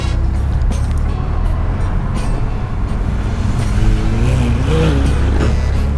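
A car drives out onto the Nürburgring Nordschleife with a loud, steady engine drone and road rumble from inside the cabin, the engine note rising slightly toward the end.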